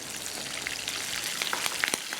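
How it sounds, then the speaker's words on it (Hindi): Onions and green chilies sizzle in hot oil for a tadka, giving a steady, close frying hiss scattered with sharp little crackles and pops. "और अब मैं इसका तड़का जो है वो कंप्लीट हो रहा है, और ये हरी मिर्चें डाल रही हूँ इसके अंदर"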